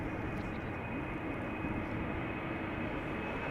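A KLM jet airliner on the Düsseldorf flight roars steadily and loudly, a dense continuous engine rush with a faint high whine, no voices.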